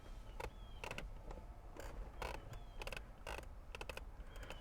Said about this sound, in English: Here's the squeak I was talking about.